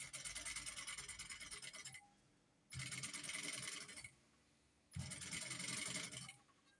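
Three bursts of a sewing machine stitching a side vent seam on a safari shirt, each a rapid mechanical whir lasting a second or so, separated by short quiet pauses, close and clear.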